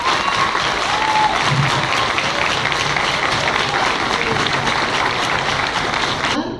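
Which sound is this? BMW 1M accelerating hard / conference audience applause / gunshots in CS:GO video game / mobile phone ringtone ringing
conference audience applause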